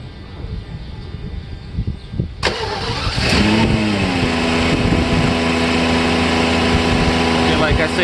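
A Mercedes S600 W140 V12 cranks, catches and then settles into a steady, loud, close idle that runs high after throttle repairs. Someone speaks briefly before the engine starts.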